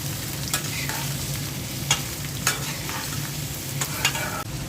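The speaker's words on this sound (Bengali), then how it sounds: "এখন সব কিছু ভালো করে মিক্স করে নিচ্ছি।" Carrots, peas and chillies tossed together in a hot pan: constant sizzling with repeated spatula scrapes and clacks at irregular intervals, close and fairly loud, no voices.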